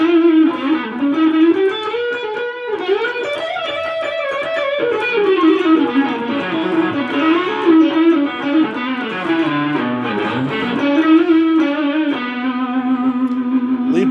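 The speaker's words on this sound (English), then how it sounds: "distortion is on. Neck pickup." Distorted Fesley FST350M electric guitar on the neck pickup playing a sustained melodic lead with a warm, rounded tone, loud and continuous throughout, with slight reverb.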